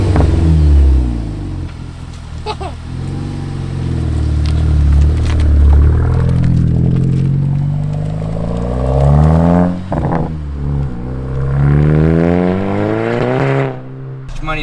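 Catless Mk6 VW GTI exhaust revving hard and loud, rising and falling through several throttle blips with crackle and pops, bouncing toward the rev limiter near the end.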